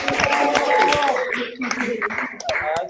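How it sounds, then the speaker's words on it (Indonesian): A classroom of students claps their hands together in a steady patter of applause, mixed with their voices chanting along throughout. "Tepuk tangan, tepuk tangan, tepuk tangan."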